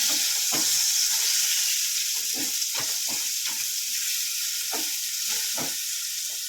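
Masala of turmeric, coriander-cumin powder and salt fries in hot oil in a pan, a constant close sizzle broken by a series of soft spoon-stirring knocks and scrapes.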